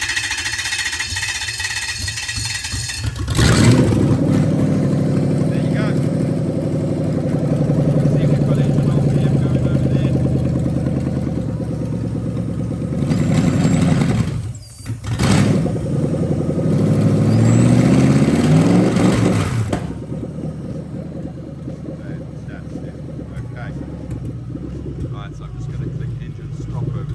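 A Toyota 1UZ-FE V8 running on a FuelTech FT550 engine management unit, a loud steady idle that dips briefly mid-run and then cuts off, followed by quieter room sound.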